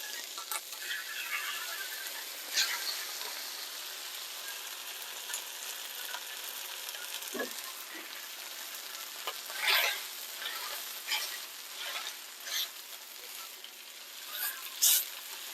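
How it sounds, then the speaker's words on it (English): Crispy noodles frying in a wok for chilli chicken with peanuts, a steady close sizzle with occasional louder crackles and spits, no talking. "prepare your noodles up to the ready to go in the wok stage, and then just separate them as you put them in."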